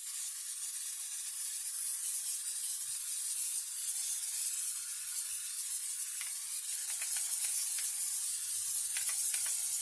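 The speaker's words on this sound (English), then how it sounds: "now I am just lightly going to spray my canvas" Aerosol adhesive sprays lightly across the back of a canvas, making a steady, close hiss that runs unbroken for about ten seconds, with a few faint ticks near the end.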